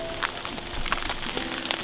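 Rain patters steadily on a tarp or surface at a boat-building campsite, with scattered louder drops ticking close by over a soft continuous hiss.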